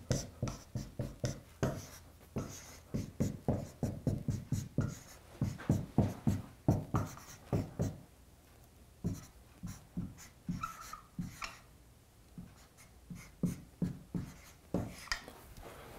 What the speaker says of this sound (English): I'm going to write this a little bigger.